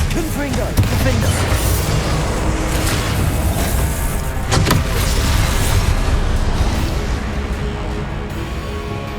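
Spell-casting effects from Hogwarts Legacy gameplay on PS5 burst and whoosh in a dense, loud wash of magical blasts and booms, with a sharp crackling hit near the middle.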